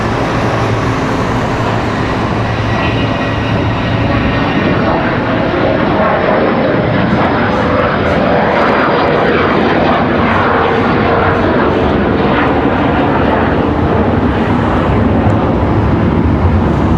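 Airplane departing Washington Dulles airport, a loud, continuous roar of jet engines that stays steady and close throughout, heard alone.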